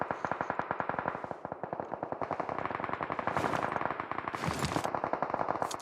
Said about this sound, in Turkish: Arkadan da çok fazla sıkan var.